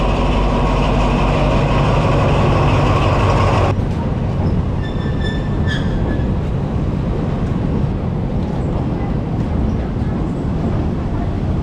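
A train crosses the Death Railway bridge at Kanchanaburi, Thailand, heard from nearby as a loud continuous rumbling roar. It eases slightly partway through, and faint high squeals follow.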